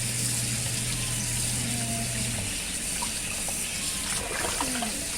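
Tap water runs steadily while chicken breasts are rinsed, a loud continuous gush and splash with faint handling noises toward the end.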